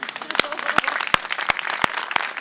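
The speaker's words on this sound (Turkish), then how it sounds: "Ben kendinizi alkışlamanızı istiyorum." An audience at an adult education centre event in Bafra applauds, with sharp individual claps standing out over a busier background.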